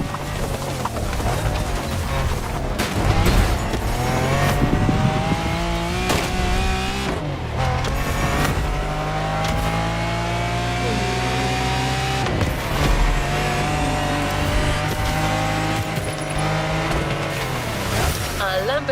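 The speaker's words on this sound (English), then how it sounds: "It's the fastest supercar from the early 90s and a Lamborghini for a whole new generation." Lamborghini Diablo supercar from the early 1990s driven in The Crew Motorfest video game, its engine droning and rising in steady revs, loud and continuous under a talking voice.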